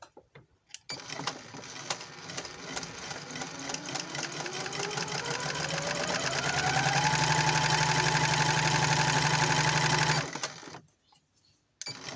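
A Janome or Pfaff embroidery machine stitches fabric with a rapid, even mechanical chatter that rises in pitch and loudness as it speeds up, holds steady, then stops abruptly.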